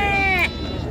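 Sheep bleating loudly and close at a livestock market in Beyleqan, one long wavering bleat that fades into low background chatter.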